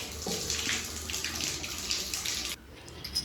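Water gushes steadily from a Grohe sport shower jet during a bathroom installation, a close, hissing spray that cuts off abruptly near the end.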